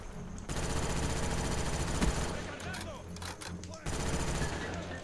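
Rapid automatic fire from a FAMAS rifle in Call of Duty: Black Ops 1 on Xbox 360 rattles loud and dense through most of the stretch, briefly thinning near the end before resuming, with faint voice traces underneath.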